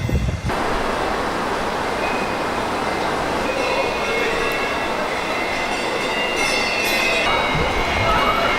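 An underground metro train runs through a station beneath a Buddhist temple in Shanghai, a loud, steady rumble of rolling carriages with rail noise and faint wheel squeal holding across the whole stretch.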